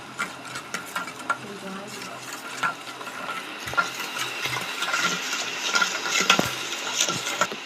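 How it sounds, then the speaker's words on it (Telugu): Bread batter mixed with rock salt and sugar for veg bread, stirred steadily with a spoon in a bowl, giving close, continuous scraping and clinking with brief sharper knocks, no talking. "మళ్ళీ బాగా కలుపుకుందాం"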